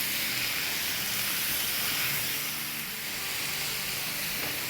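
About 700 grams of chicken mince frying in a pan over a high flame, a loud, steady hissing sizzle that stays close and constant, easing slightly toward the end.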